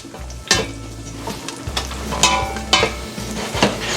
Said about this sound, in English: we're just perfuming the oil with that lovely chili and garlic